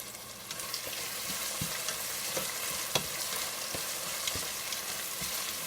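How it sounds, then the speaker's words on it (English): Onions fry in a pot for Trini jollof rice, a continuous sizzle broken by repeated scraping clicks of a spoon stirring against the pot, close and moderately loud. "the onions are burning my eyes"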